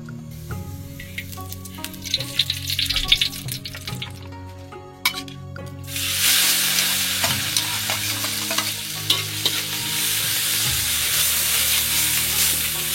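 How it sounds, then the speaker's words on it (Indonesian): Spice paste sautés in a pan over a wood fire in a forest camp: soft stirring and scraping at first, then a loud, steady sizzle from midway on, with tonal music running underneath. "Kita tumis bumbunya sampai harum"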